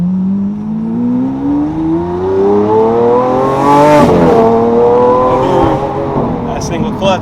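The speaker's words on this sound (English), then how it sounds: "My favorite thing about this car is the downshifts." A Lamborghini Aventador with a single-clutch gearbox, in its aggressive Corsa track mode, revs up in a rising howl before snapping through downshifts with sharp crackles, loud and close, while people talk over it.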